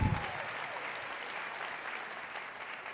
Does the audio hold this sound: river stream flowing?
no